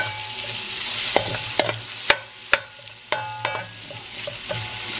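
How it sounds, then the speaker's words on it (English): Cabbage and sausage cook in a pan under a low, steady sizzle, stirred with a utensil that makes several sharp knocks and scrapes against the pan. "Give it a good stir."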